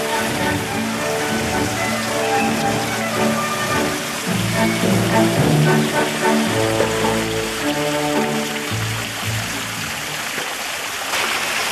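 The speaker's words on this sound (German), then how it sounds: "Ein Spaziergang im Regen durch Nancy." Steady rain falls throughout a walk through the streets of Nancy, France, a dense, even patter and splash on pavement that stays close and continuous with no voices.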